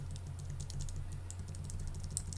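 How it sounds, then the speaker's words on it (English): Arrow keys on a Mac keyboard tap in a quick, steady series of light clicks over a low hum, faint and close, with no voices. "So I'm using my right left arrow keys."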